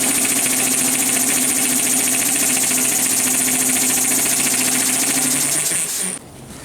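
Air compressor engine running steadily, close and loud, with a constant buzzing mechanical drone that cuts off abruptly near the end.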